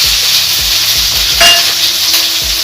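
Green chillies and mustard seeds fry in hot oil with a bright, steady sizzle, punctuated by regular scraping strokes of a spatula stirring the pan, close and loud.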